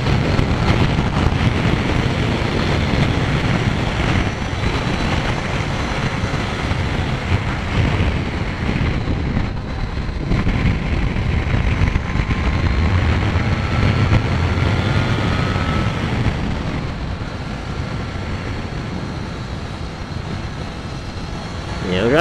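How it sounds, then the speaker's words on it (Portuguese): Strong roaring wind buffets a rider on a Kawasaki Z900 motorcycle climbing a mountain road, a loud continuous rushing blast with engine rumble underneath, while someone talks over it. "Olha aí o vento. Vai, parece um furacão."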